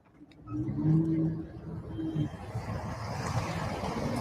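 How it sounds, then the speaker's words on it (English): Road traffic on a busy Los Angeles street during protests, a steady wash of car engines and tyre noise with one vehicle swelling past up close early on, then a continuous broadband rumble. "There's so much traffic."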